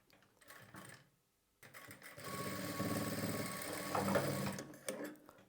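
Sewing machine stitching piping onto a blouse, fabric folded along the front and back as it goes; two short bursts of whirring separated by a pause, then a longer steady run of stitching, close and fairly quiet, no talk.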